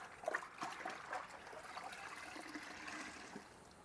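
A dirty wash pad is dunked into a bucket of rinseless car wash solution without agitation, giving a soft, close watery trickle and slosh that runs steadily throughout with no talking.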